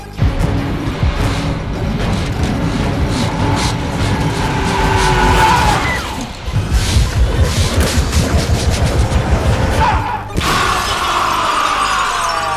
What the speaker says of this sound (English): He smashes through the glass, hanging in midair like a human cannonball, firing multiple shots without missing a single target.